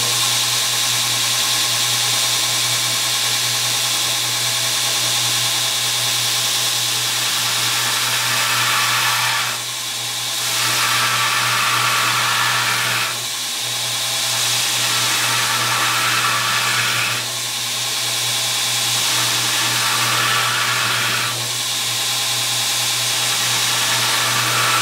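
A belt grinder fitted with a new 36 grit belt does heavy stock removal on a forged blade, a loud continuous motor hum with a harsh abrasive roar that dips briefly several times as the blade is lifted and pressed again.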